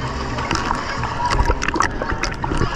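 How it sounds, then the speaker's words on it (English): Pool water splashes and sloshes in irregular bursts, with scattered splats close by and some muffled voices mixed in. "y'all splashing water on my head"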